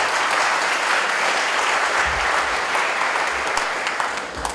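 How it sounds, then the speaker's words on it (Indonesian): Audience applauding a theatrical performance by cadets at an Indonesian Independence Day (78th anniversary) celebration, a dense, steady clapping that fills the whole stretch at even loudness. "Mari kita tepuk tangan untuk mereka."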